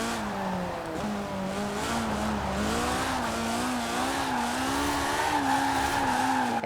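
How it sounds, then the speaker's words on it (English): A tuned Honda S800 drift car in the video game Forza Horizon 4 runs through a long, continuous tire squeal and skid with the engine howling at high revs and the pitch wavering as it slides, loud and close with no talk. "I've accidentally made a drift car."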